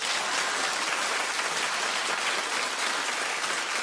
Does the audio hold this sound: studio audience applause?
yes